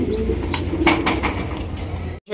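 Lahori pigeons at a farm loft cooing in low, throaty warbles, close by over a busy background with a few sharp clicks and rustles, ending abruptly.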